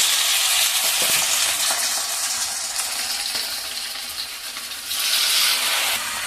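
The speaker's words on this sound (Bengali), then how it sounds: "তো দেখতেই পাচ্ছ আমাদের এখন পকোড়াগুলো তেলে ছাঁকা হচ্ছে একটা একটা করে" Pakoras deep-frying in hot oil, a loud, bubbling hiss that swells again near the end as more go in, with a faint clink early on and nobody speaking.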